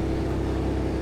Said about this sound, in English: Should we just give it a bit of a rev?